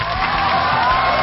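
A studio audience at a Chinese television dating show applauds and cheers, a steady wash of clapping and crowd noise that holds loud and unbroken for the whole moment.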